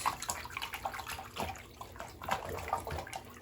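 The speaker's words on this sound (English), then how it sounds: "the hot water and conditioner solution like so. Go ahead and just mix this in" Hot water sloshing and splashing as conditioner solution is mixed in for reviving a curly wig, with irregular liquid swirls and small splashes, close and moderately loud, no talking.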